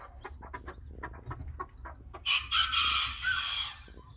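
A series of short, close clucks from a hen and rooster pair, then a louder rooster crow bursts out partway through before fading back to clucking.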